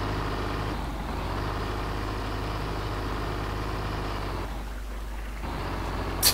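A KamAZ 65228 8x8 truck engine in the Spintires video game runs steadily, a deep low rumble that idles and shifts slightly in pitch, continuous and fairly loud with no voices over it.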